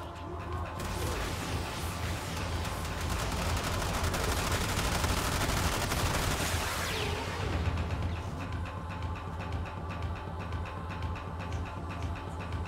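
Heavy gunners open fire in a Warframe Steel Path mission, producing dense, loud, continuous rapid gunfire layered with game effects that thins out toward the end.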